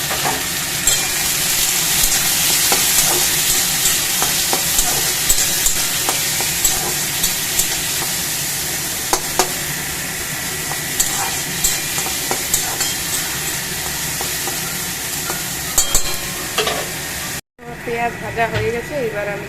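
Onions frying and being stirred in a pan, a steady close sizzle with frequent scraping strokes under intermittent talk, then a brief break near the end before the frying resumes.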